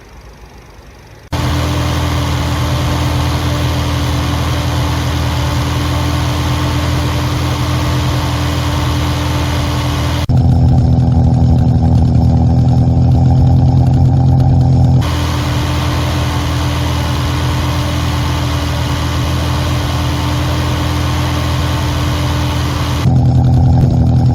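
An MG Midget with a freshly built 1330 Sprint racing engine held at a steady 2000 RPM to bed in the crank. After a short quiet start, it gives a loud, continuous, even drone, alone without talk.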